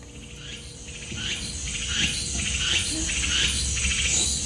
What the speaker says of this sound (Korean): 저 극성스러운 매미 소리를 보면 내년엔 함께 화성행궁으로 가시지요.